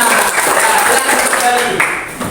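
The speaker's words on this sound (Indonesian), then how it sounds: "Oke, tepuk tangan untuk semuanya." Dense, steady clapping from a class of schoolchildren fills the whole stretch, mixed with voices, fading slightly toward the end.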